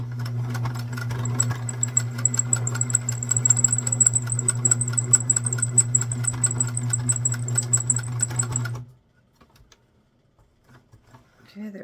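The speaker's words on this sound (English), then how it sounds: "I'm just going to sew it all the way across." A sewing machine runs a steady line of stitching across a child's apron for about nine seconds, a fast even whirr with rapid needle ticks, then stops into near silence.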